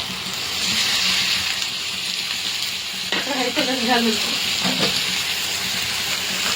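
Onions and tomatoes fry steadily in a pan with a constant sizzle, joined midway by a few scraping stirs of a spoon against the pan, close and clear with no voices.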